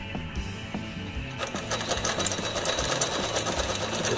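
A Pfaff 230 sewing machine zigzag stitches, its fast steady mechanical chatter starting softly and then running loud and continuous at close range.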